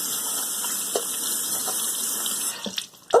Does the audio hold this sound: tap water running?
yes